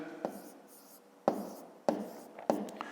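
A pen scratches numbers onto paper by hand while working a long division problem for a fifth-grade maths exercise, the faint strokes arriving in short, separate bursts close to the listener.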